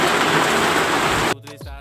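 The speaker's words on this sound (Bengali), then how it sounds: "আর এদিকে রান্না করছি আর এদিকে এসছে তুমুল পরিমাণে বৃষ্টি" Heavy rain pounding a rooftop, a dense, loud, steady roar close by that cuts off abruptly near the end, leaving a brief quieter tail.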